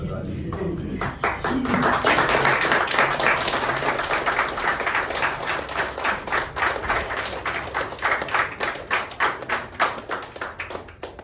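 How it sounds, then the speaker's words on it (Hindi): An audience claps during a certificate presentation at an acting workshop demonstration in a hall. Loud, sustained applause comes first, then it settles into a regular rhythm of steady beats. A voice can be heard speaking over the start. "प्लीज बीच बीच में ताली जरूर बजाइए"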